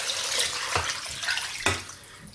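Water poured from a tap into a pressure cooker holding tripe and oxtail for kare-kare, a close, steady splashing stream with a couple of sharper gushes and no talking.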